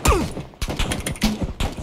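Rapid bursts of gunfire in the battle royale game PUBG, a quick string of sharp shots close by over about two seconds.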